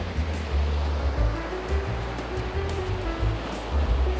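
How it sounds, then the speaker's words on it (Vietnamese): Ocean surf at a resort beach in Nha Trang, Vietnam, waves breaking continuously on the shore with a steady loud roar and low rumbling swells, no talking over it. "À, nghe sóng đánh này."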